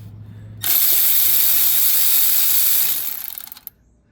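A rapid ratchet clicks steadily for about three seconds, loud and close, while loosening the last nut on a motor mount of a 2006 Nissan Maxima, then slows and stops, with no voices.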